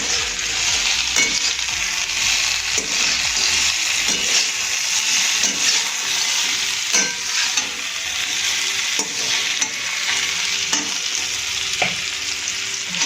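Crispy chilli potatoes fry with a steady loud sizzle in a pan, and a spoon stirs and tosses them in repeated scrapes and knocks, alone without talk.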